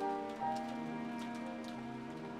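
Rain beats against a window glass in the visual novel Umineko, a soft, steady patter of drops beneath sustained tonal background music, with no voices.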